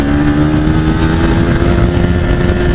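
Bajaj Pulsar 200NS motorcycle, BS4 model, running hard at speed through its gears, a loud steady engine roar with strong low harmonics filling the whole stretch, no voices.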